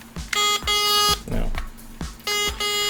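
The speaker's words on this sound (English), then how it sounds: "then we hit this little button here, the horn beeps." A small battery-powered toy's horn beeps in repeated electronic bursts after a button press, loud and close, with short pauses between the bleeps.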